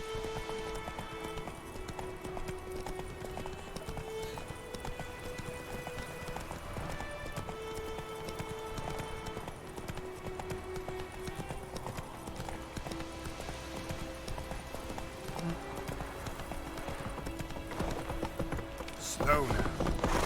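Hoofbeats of a horse galloping in The Witcher 3 keep up a steady clip-clop beneath a constant music bed, and a brief whinny comes near the end.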